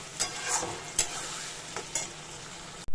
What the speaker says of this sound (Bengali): এখন এটা আস্তে আস্তে আমি গ্যাসের ফ্লেমটাকে লো একটু করে দিয়েছি মিডিয়ামে দিয়ে এটা নাড়াচাড়া করছি